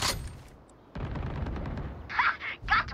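Valorant gunfire: a rapid burst of close, sharp shots followed by two short, bright volleys, with no talking.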